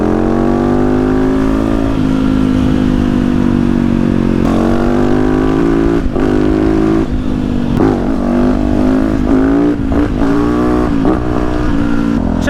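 A Yamaha YZ450F supermoto motorcycle engine revs loud and close with a constant thick drone. Its pitch rises and falls as the throttle is blipped, and short sharp revs come near the end. No one talks.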